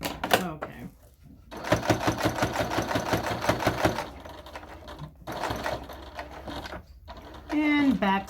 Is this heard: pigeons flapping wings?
no